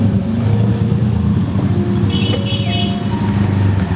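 An automatic motor scooter rides away on a street, its engine drone steady and fairly loud amid general traffic noise, with a brief horn-like tone in the middle.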